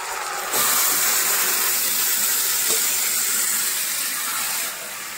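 Mutton goes into a pan of browned fried onions, a loud sudden hiss bursting up and holding steady for about four seconds before easing back down.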